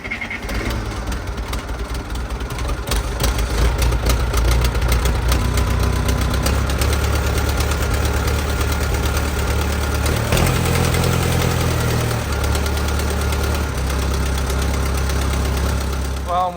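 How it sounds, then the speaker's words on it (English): An old backhoe's diesel engine idling steadily while it warms up, a loud, continuous low rumble with a faint knocking texture throughout. "While I'm waiting for the backhoe to warm up"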